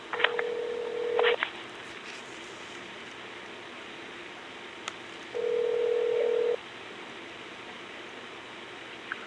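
Telephone keypad tones dialing an extension on a US Customs phone line, one burst of beeps near the start and a single sustained tone later, over steady line hiss with no voices.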